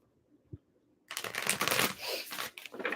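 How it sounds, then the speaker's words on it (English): A deck of tarot cards being shuffled close by, a brief soft tap first, then a dense, continuous riffling and flapping of cards that keeps going with small pauses, with no voices. "Let me shuffle, get a good shuffle for you."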